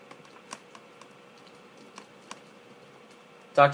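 A website address being typed on a computer keyboard, with sparse, faint key taps spread out at an irregular pace and one louder clack at the end, close by in a quiet room.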